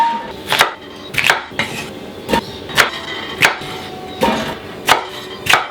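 A knife chops potatoes into quarters on a board, about ten sharp, evenly spaced thuds close up with a brief scrape after each cut, no talk.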